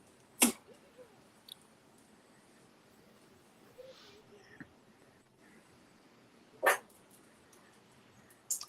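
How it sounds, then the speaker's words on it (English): A dog barks a few sharp times, once near the start and again later, separated by quiet stretches with small clicks and faint background noise. "What you barking at?"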